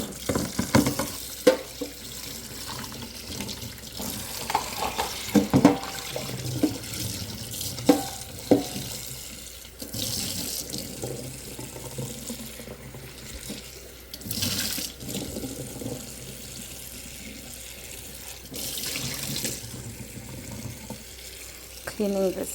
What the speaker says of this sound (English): He's just rinsing it out.